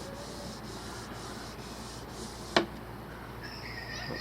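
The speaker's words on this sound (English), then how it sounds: "Doesn't matter which way you hold your block, as long as you don't sand up and down." A sanding block is rubbed by hand over a part from a 1988 Suzuki GSX-R Slingshot motorcycle, giving a steady, soft scraping hiss with faint regular strokes and one brief sharp knock.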